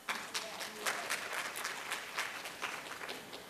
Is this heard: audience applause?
yes